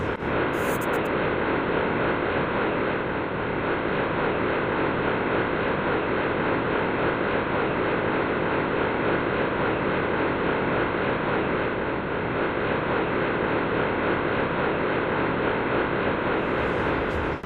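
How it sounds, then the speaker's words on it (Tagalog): Sonified Big Bang: a steady, dense roar like rushing wind or distant engine noise, unchanging and continuous throughout, with no voices. "Ngayon, maririnig ninyo ang tunog ng Big Bang"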